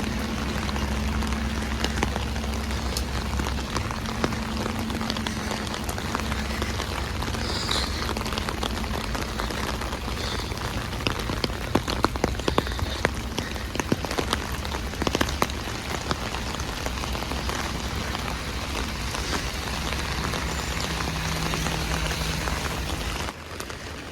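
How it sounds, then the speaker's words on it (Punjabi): Heavy winter rain pours steadily onto a wet street in Italy, a dense, continuous hiss of drops with a few sharper patters partway through and no voices. "ਗੱਡੀਆਂ ਦੀਆਂ ਲਾਈਟਾਂ ਤੋਂ ਪਤਾ ਲੱਗਦਾ ਹੋਣਾ ਕਿੰਨਾ ਮੀਂਹ ਪੈਂਦਾ"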